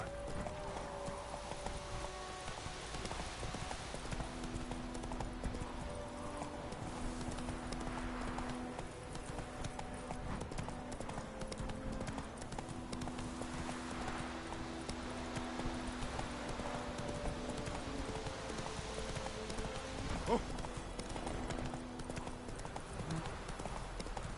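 Steady clip-clop of horse hooves in The Witcher 3, a rhythmic walking gait with wind and soft ambient tones beneath, plus a brief whinny-like burst near the end.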